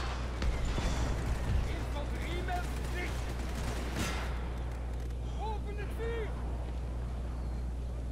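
Musket volleys crackle across a Napoleon: Total War battlefield in the Brussels campaign, with scattered sharp reports early, a louder burst midway, and a steady low rumble and voices underneath.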